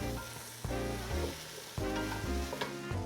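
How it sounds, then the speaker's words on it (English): A sweet potato tempeh stew sizzles in a hot pan as it is stirred, with a loud, close frying hiss and the scrape and shuffle of a utensil moving through the food in a few uneven bursts. "Just going to give it a little stir."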